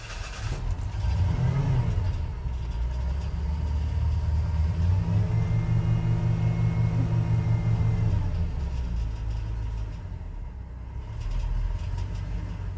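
An old hot rod shop truck engine idling roughly after being revived, with a steady low rumble that swells briefly in pitch mid-clip before settling back, close and continuous with no talking.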